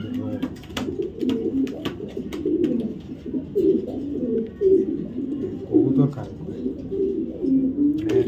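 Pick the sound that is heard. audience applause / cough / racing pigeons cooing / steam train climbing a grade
racing pigeons cooing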